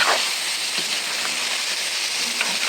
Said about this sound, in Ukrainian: Зараз я обсмажую морковку нашу цибулькою.